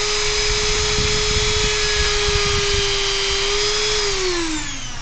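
A Dremel rotary tool spins at 20,000 RPM against plastic, melting it: a loud, close, steady high whine that holds, then drops in pitch near the end as the tool winds down.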